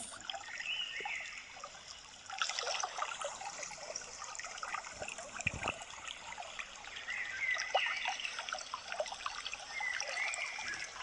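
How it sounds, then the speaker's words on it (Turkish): Water trickles and splashes continuously nearby, a small waterfall in a rocky nature park with occasional louder gurgles and no talking. "Hemen karşıda yine küçük bir şelale görüyoruz."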